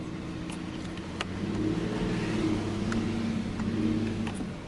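Denali truck engine straining up a steep muddy slope, a steady mid-pitched drone that swells slightly partway through, with light clunks and knocks and no talk.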